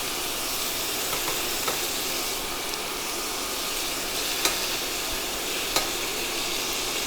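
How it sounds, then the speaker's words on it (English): Chicken thighs sizzling steadily in a pan, a continuous crackling hiss with a few sharp pops, close and moderately loud, no voices. "I mean, it could be sizzling a little louder,"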